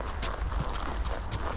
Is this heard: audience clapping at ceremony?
no